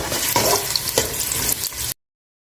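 Roughly chopped onions frying in oil in a pan, a continuous close crackling sizzle with a few stirring scrapes, cutting off abruptly before the end.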